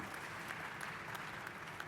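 An audience at a business leaders' panel claps in a steady, distant wash of applause, faint and even throughout with no voices on top.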